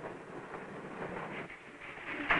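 Freight cars roll through a rail yard in a steady, continuous rumble with scattered metallic rattles, fairly close, growing louder at the end with a sharp squeal.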